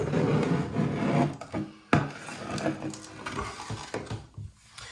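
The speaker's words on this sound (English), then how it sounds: "I'm just going to get the sharp chisel and sort of carefully work along it to get it all off" A sharp chisel scraping old silicone sealant off a smooth bath panel, producing repeated rough rasping strokes, close and fairly loud, with brief scratchy pauses between passes.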